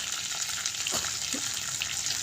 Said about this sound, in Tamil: இப்போ கருவேப்பிலை அதோடு சேர்த்து மிளகு சீரகம் சேர்த்து வதக்கிறோம்